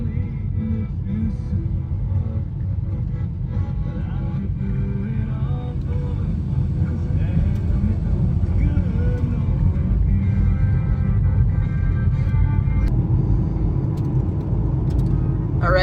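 A broken Ford Mustang cruises at about 30 mph on an icy mountain road, a steady low engine and road rumble from inside the cabin with faint rattles, no talking.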